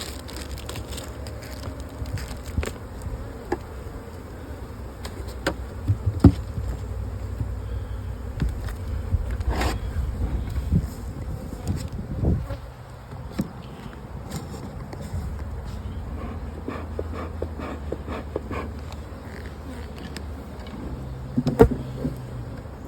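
Honey bees buzz steadily at an open hive box holding drawn comb, a dense, continuous hum from a strong colony heard up close, with a few brief louder swells as bees pass near.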